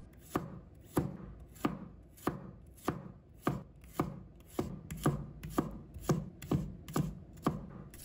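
A knife slices garlic cloves on a cutting board in a steady series of about a dozen crisp, evenly spaced chops, close and clear with no talking.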